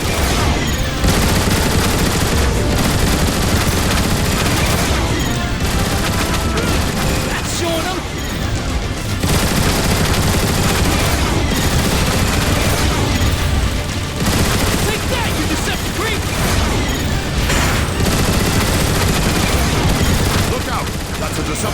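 Turret gun emplacement fire in the Transformers War for Cybertron video game: sustained rapid bursts and heavy booms with brief lulls, loud and dense, with character voices and music over it.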